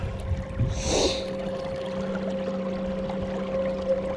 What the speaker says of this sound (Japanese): フロートボート乗降。